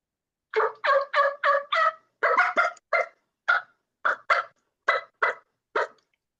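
A voice imitating a turkey gobble, a rapid burst of warbling calls followed by a slower series of separate yelps, close and clear.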